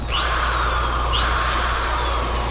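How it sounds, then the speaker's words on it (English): A corded DeWalt drill with a scrub brush whirs steadily and loudly up close, with a bristly scrubbing hiss over the motor whine, cleaning the cloth seats of a 2015 Nissan Rogue. "With the drill brush, of course."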